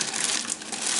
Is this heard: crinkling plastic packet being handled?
yes